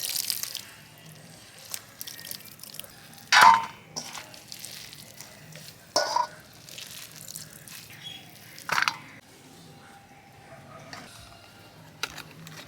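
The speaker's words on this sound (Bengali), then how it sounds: "বাঁধাকপি চেপে চেপে জলটা বার করে নেবো।" Salted cabbage is squeezed by hand to press out its water, giving a few short, separate wet splashes and drips spaced a few seconds apart against a quiet background.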